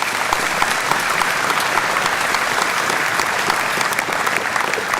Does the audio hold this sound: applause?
yes